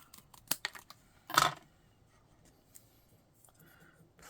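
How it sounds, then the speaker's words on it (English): Metal snips cut a strip of paper for a stamped card project, giving a few close, quiet crisp snips and one louder slicing cut, followed by faint rustling. "I really don't like using my good snips for this, but we are going to. I'm just going to cut a strip."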